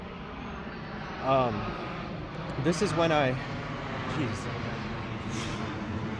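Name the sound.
airplane flying directly overhead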